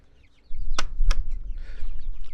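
A couple of sharp clucks from pastured chickens in a mobile coop, then a steady rustle and low noise as the birds scratch around nearby.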